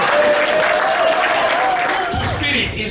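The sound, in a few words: audience clapping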